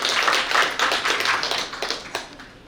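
Audience at a newspaper anniversary reception welcomes a National Assembly member with lively applause, individual claps audible in a loud, uneven burst that fades toward the end.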